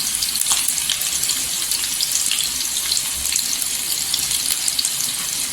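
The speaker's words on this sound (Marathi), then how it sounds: "तेलावर परतून घ्यायचं" Chopped onion and curry leaves sizzle and hiss steadily in hot oil in a home kitchen pan, a close, bright crackle with no talking.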